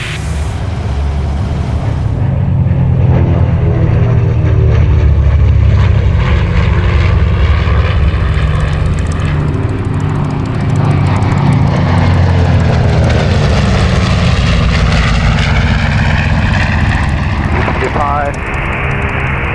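Four warbirds, a B-25, P-38, F4U and P-51, fly in formation above Old Warden Aerodrome. Their piston propeller engines make a continuous loud, throbbing roar that swells and shifts in pitch as the formation passes overhead.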